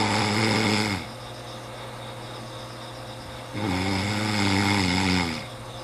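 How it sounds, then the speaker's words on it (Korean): A 24-year-old man who has snored since childhood, his snoring worsened by rhinitis, gives two long, loud rasping snores separated by a quieter inhalation, close and rhythmic. "비염을 앓으면서 코골이가 더 심해졌다"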